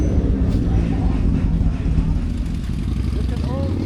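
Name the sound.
motorcycle engines roaring in a biker procession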